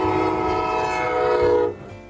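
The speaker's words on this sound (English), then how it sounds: "let's take a look at another tradition, the train around the tree" A toy train circling a Christmas tree at a fort celebration sounds a sustained whistle tone over a low rolling rumble, ending abruptly.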